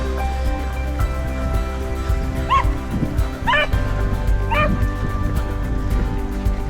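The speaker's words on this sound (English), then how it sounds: "Very enthusiastic little doggo there." A small dog at a parkrun on a common barks eagerly in three quick bursts of high yips, close by, over a steady low rumble of wind and outdoor background noise.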